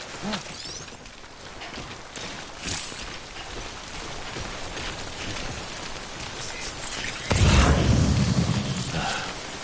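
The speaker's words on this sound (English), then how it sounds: "Don't stay out in the rain any longer than you have to." Timefall rain falls in a video game, a soft steady patter with no voices, swelling into a louder rumbling burst near the end.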